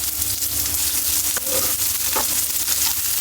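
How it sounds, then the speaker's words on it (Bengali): Onion, green chili and garlic frying in a pan, a steady soft sizzle running throughout with a few light stirring scrapes near the middle, close and moderately loud. "পেঁয়াজ রসুন প্রথমে বেশি দিতে হবে দিয়ে এটা ভাজি হচ্ছে"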